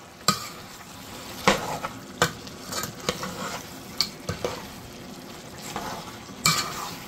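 Goat meat curry stirred in a pot, repeated clattering spoon scrapes and knocks against the metal over a gentle sizzle, close and unaccompanied by talk.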